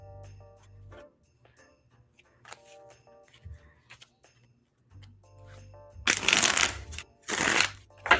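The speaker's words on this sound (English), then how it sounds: "Let me get a nice shuffle going." Tarot cards shuffled by hand in a quiet room, soft riffles and slides with faint tinkling, building to two loud, dense shuffling bursts near the end.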